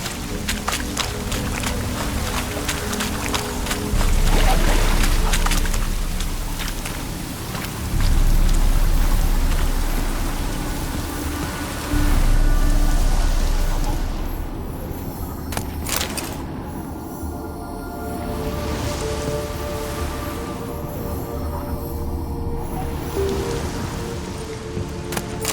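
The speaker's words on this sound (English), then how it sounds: "Looks like rain." Steady rain falls in the Witcher III video game, a continuous hiss of drops. Three low surges rise briefly over the wash before it settles into a quieter, even patter. No one speaks.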